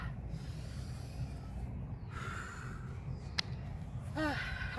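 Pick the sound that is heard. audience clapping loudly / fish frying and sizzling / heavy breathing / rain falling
heavy breathing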